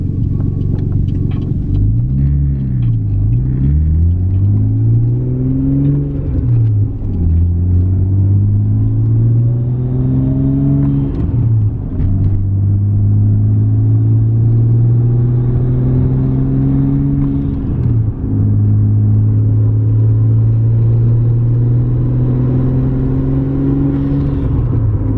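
A Nissan R32 Skyline engine revving while driving on an evening street, a loud, close rumbling exhaust that climbs through the gears with rising pitch, brief drops at each shift, then a long steady pull.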